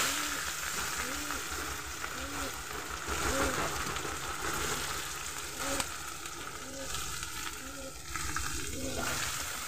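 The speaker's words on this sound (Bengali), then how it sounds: "পেঁয়াজটা একটু ভাজা ভাজা করে নেব।" Onions frying in oil in a wok with cumin seeds and bay leaf, cooked for a reetha fish dish, give a steady, even sizzle that runs the whole time, with faint tonal sounds in the background.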